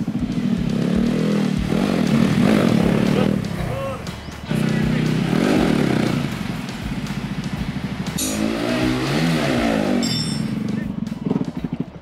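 A motorcycle engine runs loud and close during wheelie practice, its revs rising and sagging too low, with clattering mechanical noise and voices over it.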